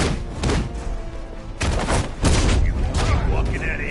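Bursts of gunfire in the video game Batman Arkham Knight sound as rapid volleys and booming shots, loud and close, with a short lull before heavier firing resumes.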